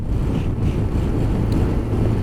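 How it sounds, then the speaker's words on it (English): Wind roaring across the microphone of a rider on a Kawasaki Versys 1000 motorcycle, a loud, steady, rumbling buffet that never lets up, with no voices. "It is windy, as you may be out here. Sorry if it is windy."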